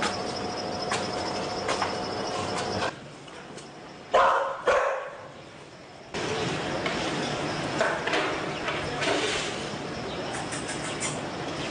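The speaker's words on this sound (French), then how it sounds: "Les chiens sont nourris autour de Pépé Yebga." Dogs barking while being fed, busy outdoor sounds with raised barks and yelps scattered across the stretch, fairly close, broken by a quieter gap midway.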